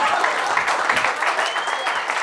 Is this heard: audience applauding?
yes